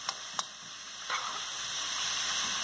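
Ground beef sizzles steadily in a hot pan, a broad crackling hiss with a few sharp pops and a stirring scrape near the start.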